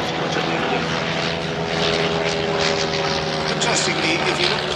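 A Sopwith Camel WWI biplane flies past at an air pageant, its rotary engine giving a steady, loud propeller drone with harmonic hum throughout, while a commentator talks over it.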